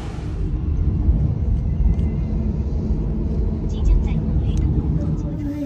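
Taxi ride through rain on the way to a hospital in China: steady low road rumble and engine drone fill the cabin, with faint hiss and occasional swishes from passing traffic throughout.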